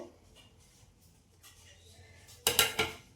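A spoon stirring chopped cashews and dry fruits in a bowl for a Christmas plum cake, with soft scraping followed by a few louder clinks and rattles near the end.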